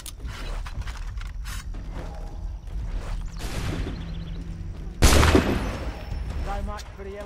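Gunfire in Assassin's Creed 3 Remastered as shots ring out from weapons grabbed off a rack, with a loud burst near the five-second mark over a steady bed of game ambience, clanks and mechanisms, and some speech.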